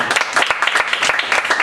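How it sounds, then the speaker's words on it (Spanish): Church congregation applauding during a sermon, a short burst of dense, close clapping with no talk over it. "Dale un aplauso, Señor."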